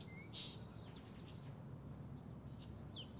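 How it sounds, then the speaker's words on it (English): Small bird chirping at a hanging garden feeder in the Stuart Little 3 video game: several quick high tweets and trills near the start, then sparser calls over a steady low ambient bed, with no talk. "This is a bird, eating from one of those hanging food things in the garden."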